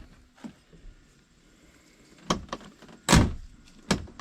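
The door of a Polaris General utility vehicle is opened and shut several times after an alignment adjustment, producing a series of sharp latching clunks and one louder slam, close by and with no talk.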